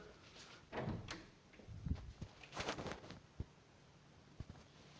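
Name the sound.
door opening by itself in a video game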